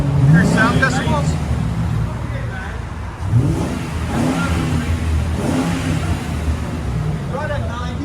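A 2008 Ford Crown Victoria Police Interceptor with a 4.6L V8 and a Carven TR-Series muffler revs its exhaust in a steady, loud low rumble that swells and falls, with people talking over it throughout.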